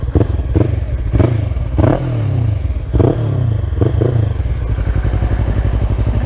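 A Yamaha R3 motorcycle fitted with an Akrapovic exhaust revs through several sharp throttle blips and gear changes while riding, loud and close, its exhaust note rising and falling in repeated bursts before settling into a steady drone.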